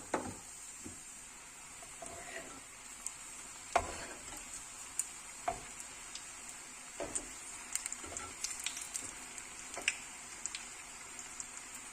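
Milk buns fry in hot oil with a soft, steady sizzle and scattered light crackles and pops throughout, fairly quiet, with no talking.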